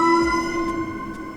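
Emergency vehicle siren wails with a steady high tone, moderately loud and fairly close, sounding alone.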